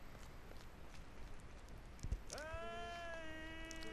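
A cat in The Legend of Zelda: Twilight Princess gives one clear, drawn-out meow near the end, preceded by faint footsteps and quiet game ambience.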